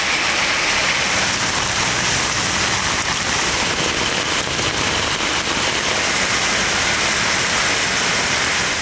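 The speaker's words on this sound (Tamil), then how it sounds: "திருச்சி சுற்றுவட்டார பகுதிகளான உறையூர், தில்லைநகர், தென்னூர், மன்னார்புரம் உள்ளிட்ட இடங்களில் கனமழை பெய்தது." Heavy rain pours down steadily in Tiruchirappalli, a dense, loud, even hiss of drops that fills the whole stretch without pause or talk.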